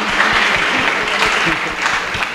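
An audience inside Cipinang prison applauds the band, a sustained wash of clapping with voices talking over it and low thumps scattered underneath.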